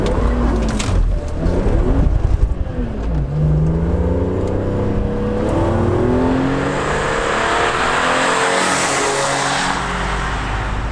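BMW Z4 M Roadster with the M3 engine accelerating hard on a wet road, a loud, close engine roar that climbs through rising revs with gear changes and the hiss of tyre spray.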